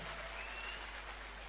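Applause from an audience at a company event, honoring team members after a motivational speech; steady, dense clapping that fills the short stretch at moderate distance.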